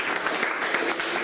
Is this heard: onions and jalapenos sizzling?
no